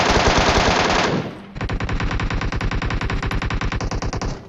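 Rapid bursts of MK14 rifle fire in a video game: a dense stream of sharp, loud shots, a brief pause, then another long, evenly paced string of rounds ending abruptly.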